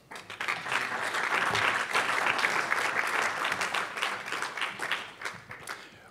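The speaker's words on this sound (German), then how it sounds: "Genau, also nochmal einen herzlichen Applaus." Warm audience applause at an industry conference on the bio-based economy: a full hall of dense, sustained clapping that swells quickly, holds steady, then tapers off near the end.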